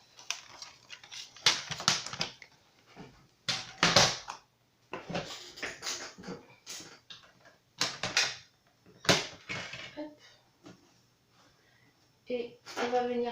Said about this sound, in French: je vais venir prendre mon massicot